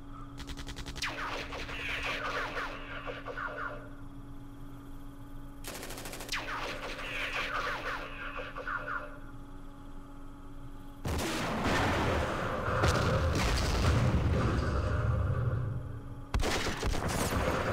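Gunfire in the Vietnam wargame Campaign Series Vietnam during the Battle of Ia Drang comes as several machine-gun and rifle volleys. Sharp bursts are separated by a few seconds, and a heavier, rumbling barrage follows, all over a steady low hum.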